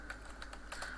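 Typing on a computer keyboard while writing code, a brief run of a few quiet, soft key clicks close by against a low background hum.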